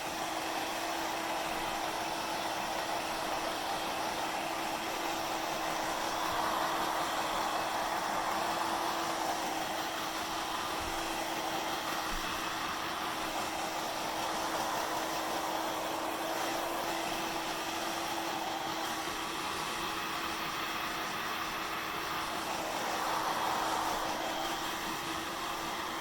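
A hair dryer blowing air while hair is blow-dried for volume, a steady loud whooshing hum that runs continuously with slight swells as it moves around the head.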